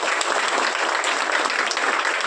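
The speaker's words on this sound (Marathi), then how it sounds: "आलेल्या सगळ्या पाहुण्यांचं विद्यार्थ्यांनी जोरात टाळ्या वाजवून स्वागत करायचं।" Students clap loudly and continuously to welcome guests at a birthday celebration for a Shiv Sena local leader, a dense, even crackle of many hands filling the room without pause.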